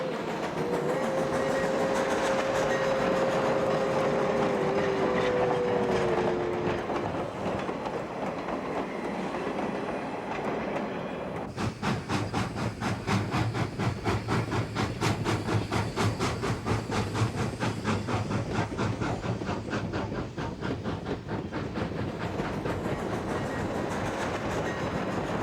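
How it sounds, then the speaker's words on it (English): Great Northern steam engine 1353 departs Havre, Montana in winter hauling local train 223, with a long two-note whistle blast early on, then heavy rhythmic exhaust chuffs and rolling wheel clatter, loud and close. "Great Northern Steam Engine 1353 leaves Havre, Montana with train 223"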